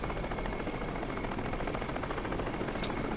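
A helicopter in the video game Crysis gives off a steady, dense rotor and engine rumble that holds at an even level throughout, with no voices over it.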